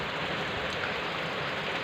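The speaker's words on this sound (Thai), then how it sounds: "ฝนยังตกบ่เศร้าอีเด้นี่" Rain falls steadily in a cold night outdoors, a dense, even hiss of drops on surfaces with no pauses.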